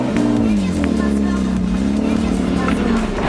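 A 1992 BMW 325i E36 drift car engine revs steadily and loud from up close, its droning note rising and falling slightly throughout with a faint voice underneath.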